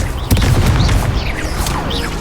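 Confringo fire spell in Hogwarts Legacy, with a loud booming blast and crackling burst followed by sustained rumble and swooshing magical effects, close and dominant with no talking.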